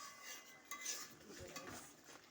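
Metal spatula scraping and tapping against a cooking pan while stirring food in a home kitchen, a few quick clinks and scrapes close up over a soft background hiss.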